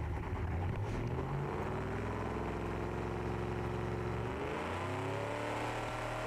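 A 1960s Le Mans-style race car engine in the video game Automation revs loudly and steadily, its pitch shifting and climbing as the revs build, with a continuous buzzing exhaust drone.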